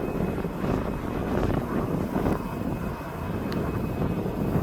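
An airliner departing East Midlands Airport gives a steady, broad engine roar at moderate distance, holding level for a few seconds with light wind buffeting and no voices.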